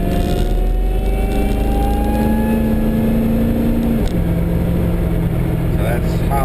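Supercharged 5.0 litre Holden V8 accelerating at half throttle, a loud steady engine drone with a rising then settling pitch, close and continuous throughout.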